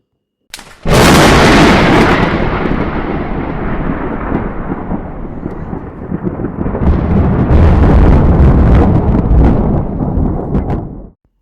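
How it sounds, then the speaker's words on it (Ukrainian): Thunder during a thunderstorm: a loud, close, deep rumble that cracks in suddenly and rolls on continuously for about ten seconds, swelling again near the end before cutting off, with no voices. "Це явище природи називається гроза."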